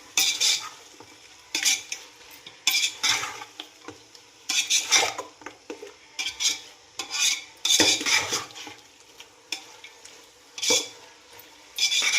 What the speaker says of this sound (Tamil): அப்படியே ரெண்டும் மிக்ஸ் பண்ணி வச்சோம்னா நல்லா மிக்ஸ் ஆகி வேகணும்.